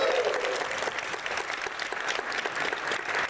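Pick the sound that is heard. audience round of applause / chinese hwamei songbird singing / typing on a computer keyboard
audience round of applause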